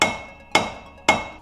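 Three sharp, ringing hammer blows about half a second apart, striking to knock a front wheel hub bearing off a GM truck; close, loud and metallic with each strike decaying quickly, no voices.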